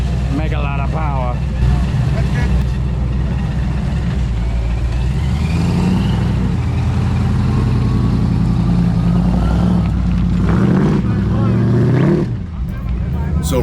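Supercharged blower truck engine idling and revving loudly at a burnout contest, its steady rumble rising and falling throughout, with people talking over it.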